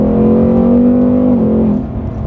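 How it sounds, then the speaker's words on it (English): A 2021 Ford Mustang Mach 1 V8 holds a loud, droning engine note that dips as an aggressive downshift blips the revs, heard close from inside the car. "definitely an aggressive downshift, at least in the lower gears"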